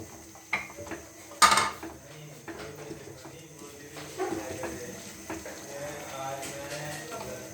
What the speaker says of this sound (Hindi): अब इसे अच्छी तरह मिक्स करेंगे।